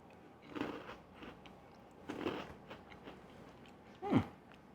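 Someone biting and chewing small, very crunchy salted rice snacks, with three distinct crunch bursts spaced a second or two apart, close and fairly quiet.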